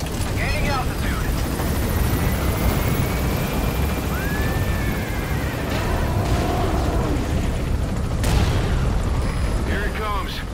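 Helicopter in the video game Metal Gear Solid V, a steady loud rotor and engine drone filling the whole scene, mixed with game effects and brief voice bits.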